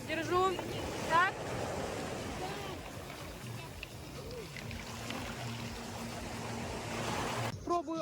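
Sea waves wash and break on a shore in a steady, loud broadband roar with gusty wind noise, while voices talk over the surf at the start and near the end.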